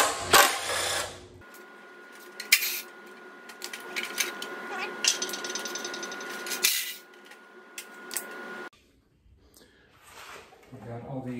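Heat shields come off the headers of a Subaru WRX engine during a rebuild: scattered metallic clinks, taps and ratchet-like clicks, with quieter stretches between bursts, recorded close up.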